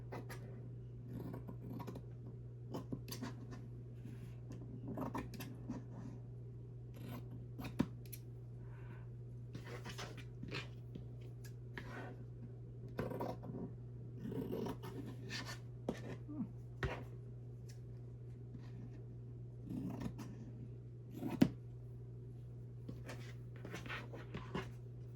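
Scissors snip through vintage handkerchief fabric and lace in a craft room, sparse irregular cuts and rustling close by, over a steady low hum from a running fan.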